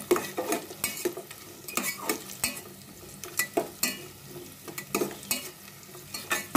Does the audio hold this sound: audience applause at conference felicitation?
no